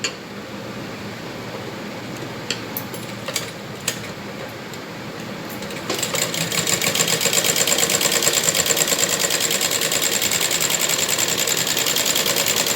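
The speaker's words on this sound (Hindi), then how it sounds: "अब यहाँ सिलाई लगाएंगे हम" A sewing machine runs a steady line of stitches along a folded salwar waistband for a belt salwar. A quieter mechanical hum comes first, then the rapid, even needle chatter starts about halfway through and continues loud and close.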